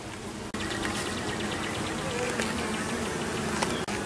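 Honeybees at a top bar hive fill the air with a close, steady, dense buzzing that continues without a break.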